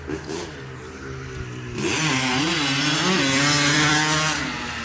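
A 1988 Honda CR250 two-stroke hillclimber engine revs up hard and loud, its pitch sweeping up and down in rapid throttle blips before holding a sustained high-rev howl.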